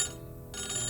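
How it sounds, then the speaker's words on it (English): A landline telephone rings briefly, a bright electronic trill that breaks off and then resumes, moderately loud and heard alone. "that's my landline."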